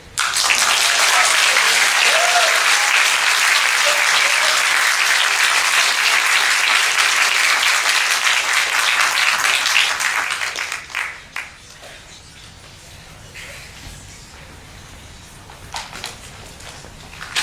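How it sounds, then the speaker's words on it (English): A cross-country team banquet audience breaks into sustained applause for runners, a loud, dense clapping wash lasting about ten seconds before dropping away to a quiet room with faint scattered sounds. "Please give them a round of applause"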